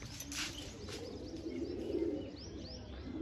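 Pigeons, some newly released, cooing softly with a few chirps, faint and fairly close in a quiet outdoor setting.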